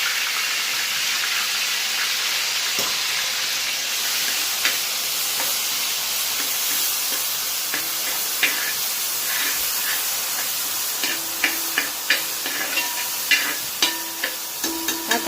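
Four finely chopped onions, blitzed briefly in a mixer, fry in a pan for chicken dum biryani. A steady, dense sizzle and hiss runs throughout, with occasional light clinks of stirring growing more frequent toward the end.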